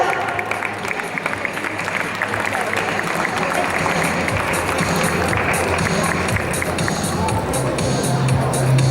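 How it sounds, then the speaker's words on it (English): Audience at a school graduation ceremony applauding a teacher: dense, sustained clapping from a crowd with background murmur and some voices, continuous for the whole stretch. "clap for her"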